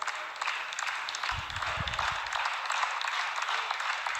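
A wrestling crowd at a live match applauds and cheers for Bryon Idol against Robert Boss Baines, a broad roar of clapping and voices filling the arena, with a brief low rumble partway through.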